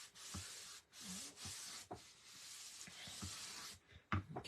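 A small wooden sign is wiped down with a cloth and rubbing alcohol, giving soft, close swishing strokes in several bursts, with light handling knocks near the end and no talking.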